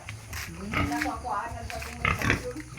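A pig being collected on a family farm grunts and squeals near at hand in a couple of bursts, while people talk over it throughout.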